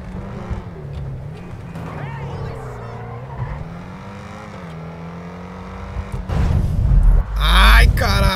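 A car drives in GTA V while a voice talks over the engine, then a loud burst of skidding and tire noise swells near the end.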